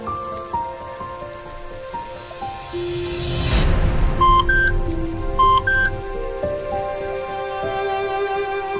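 Rain patters steadily and swells into a heavier rush midway. It plays under soft background music, with a few short electronic beeps and no speech.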